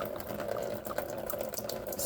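Water drains from the fuel filter drain plug of a 6.0 Power Stroke diesel, a steady close trickle and splatter that runs the whole time with no talk over it.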